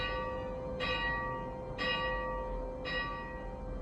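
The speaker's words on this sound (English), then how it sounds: "This is an apparatus for 6 bells, which allows one person to ring a change." Church bells at the Church of St John in the Wall, Bristol, rung by one person on a chiming apparatus for six bells, three separate clear strikes about a second apart, each ringing out and decaying over a low background hum.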